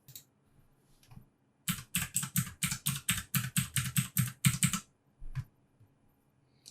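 Fingers type on a computer keyboard while entering an IP address in the PuTTY SSH client. A fast, close run of about fifteen crisp keystrokes is framed by a few isolated taps before and after.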